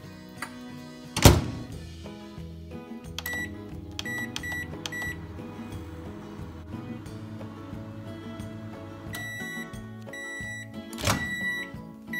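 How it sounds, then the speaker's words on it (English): A microwave oven hums steadily with a low drone, marked by a loud thunk near the start and another near the end, with a few faint beeps. "And microwave it for 2 minutes."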